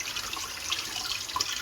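A kitchen tap runs hot and cold water for washing a salmon head, a steady close splashing stream with small drips and trickles over the flow, no speech.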